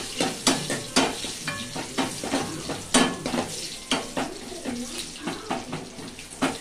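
Unpeeled garlic cloves fry for sambar in a pan, with a constant sizzle broken by rhythmic stirring and scraping strokes, close and fairly loud, without talk.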